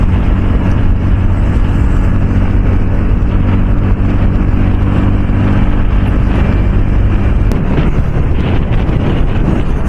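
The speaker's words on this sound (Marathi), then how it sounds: "इकडं काय वारा सुटलंय रे" Strong wind buffets the microphone on a motorbike ride toward Lonavala, a loud, continuous roaring rumble with low engine and road noise beneath, unbroken for the whole stretch and without speech.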